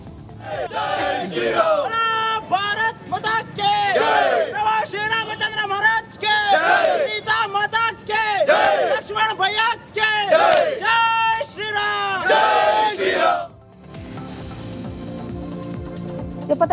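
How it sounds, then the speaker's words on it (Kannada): Villagers and youths chant Jai Ram slogans in loud, rhythmic bursts of massed shouting that keep going for about thirteen seconds, then drop to a quieter murmur of the crowd near the end. "ಗ್ರಾಮಸ್ಥರು ಯುವಕರು ಸೇರಿ ಜೈ ರಾಮ್ ಅಂತ ಘೋಷಣೆಯನ್ನ ಕೂಗಿದ್ರು"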